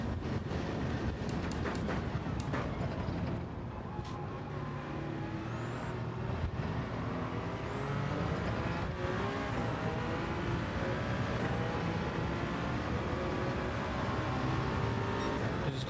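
Formula hybrid race car engine in a racing video game, a continuous dense, steady roar with faint rising whines from gear changes, held at constant loudness throughout.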